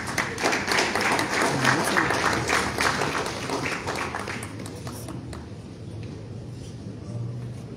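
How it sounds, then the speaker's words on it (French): An audience at an official speech event in the Comoros applauds to welcome a speaker. Dense clapping stays loud for about five seconds, then thins and fades, with voices mixed in. "On va l'applaudir en l'accueillant"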